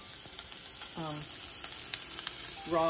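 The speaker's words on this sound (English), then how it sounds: "So I'm just gonna fry a little of this up" Breakfast sausage frying in a pan for a cauliflower crust pizza, a steady close sizzle running throughout, with a voice speaking briefly over it.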